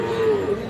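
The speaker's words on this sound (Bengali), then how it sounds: "এই দুইটাই কিন্তু ক্রস জাতের সার বাছুর।" A cross-breed bull calf moos at the Raniganj cattle market, giving one brief, steady, close and loud low call.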